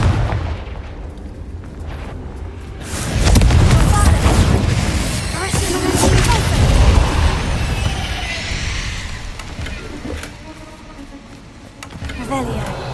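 Confringo blasting spell explosions in the Hogwarts Legacy video game, several heavy booming bursts around the middle with rumbling, crackling debris, loud and close over continuous game ambience.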